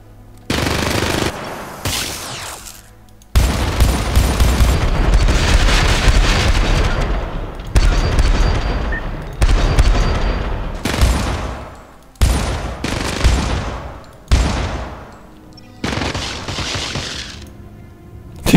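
Minigun blasting in the video game Syndicate, long loud sustained bursts of rapid automatic fire broken by short pauses, close and dominant with no talk.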